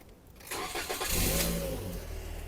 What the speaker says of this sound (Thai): สตาร์ทเครื่องให้ได้ฟังเสียงเครื่องยนต์กันแล้วกันนะครับ